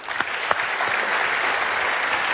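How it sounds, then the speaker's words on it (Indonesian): Audience applause at a televised Indonesian political debate discussion, a dense steady wash of clapping that swells in after a few sharp early claps and holds evenly throughout. "Baik, tepuk tangan dulu"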